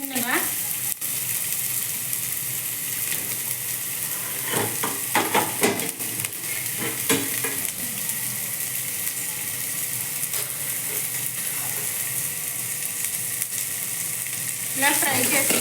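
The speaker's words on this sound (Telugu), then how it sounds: "కొద్దిగా 1 స్పూన్ వేసుకొని ఉల్లిపాయలు వేయించుకోవాలండి." Onions, green chili, carrot, ginger and garlic fry in oil for a chicken soup, a steady broadband sizzle running throughout with a few louder crackling bursts and stirring scrapes, close and even, with no talking.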